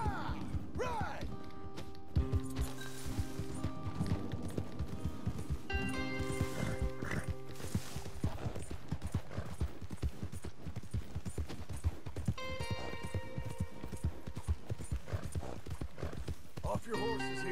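Horse hooves clip-clop in Red Dead Redemption 2 as riders gallop toward a ranch, a steady rapid beat throughout with occasional whinnies and creaks, under game dialogue and music-like tones.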